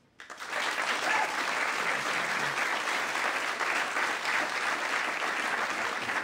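A comedy-show audience breaks into applause after a short rise, then keeps up steady, dense clapping to the end.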